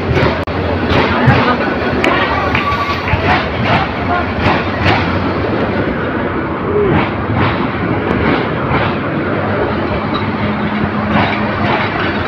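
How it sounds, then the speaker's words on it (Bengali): A train arriving at Bajitpur railway station in Bangladesh rumbles and clatters continuously nearby with rhythmic wheel clicks, while voices chatter in the background throughout. "এই যে ট্রেনটি বাজিতপুর রেল স্টেশনে এসে প্রবেশ করেছে।"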